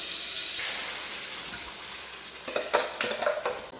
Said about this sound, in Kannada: ಫ್ರೈ ಮಾಡ್ತಾ ಇದ್ದಾಳೆ ಮಸಾಲೆಯನ್ನು.